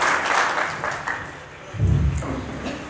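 Spoken-word poetry gathering: a crowd gives a burst of clapping, fading after about a second, followed by a short louder rumble and a few scattered claps.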